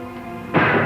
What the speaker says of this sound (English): That gun again.